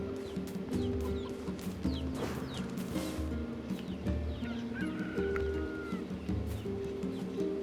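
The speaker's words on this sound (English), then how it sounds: "Is that the chicken from Legend of Zelda?" Chicken clucking in NieR Replicant, repeated close clucks and squawks scattered over a busy background of game music and ambience.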